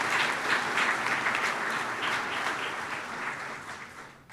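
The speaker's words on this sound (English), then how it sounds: "Let's have another round of applause and congratulations to all." Sustained applause rises from the audience at a commencement awards ceremony for the School of Liberal Arts, a thick, even patter of many hands that slowly fades toward the end.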